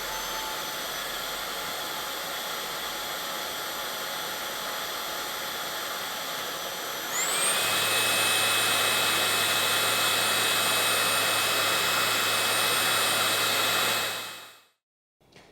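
An Anker eufy HomeVac S11 handheld gun-type vacuum cleaner runs with a dust-filled bin, a steady close whine that steps up to a louder, higher pitch partway through, then cuts off near the end.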